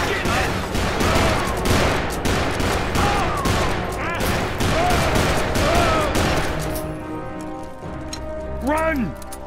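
Rapid gunfire in the Western shooter Call of Juarez: Bound in Blood, dense volleys of loud close shots that thin out toward the end, with voices shouting over the shooting.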